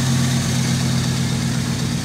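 A 1951 Ford Custom Deluxe two-door cruiser rolls down the road, its engine giving a steady, loud, low rumble with a constant drone throughout and no voices.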